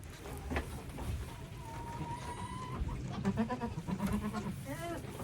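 A mother goat and her newborn kids bleat repeatedly in a farm stall, the nanny's deeper calls mixing with higher, wavering bleats from the babies amid clucking chickens nearby.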